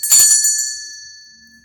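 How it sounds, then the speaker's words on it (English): A single strike of a small unicorn bell during a ritual in a carport, ringing out close and bright, then a long clear tone slowly fading to near silence. "this is a unicorn bell, and I'm using it to bring in only good energies"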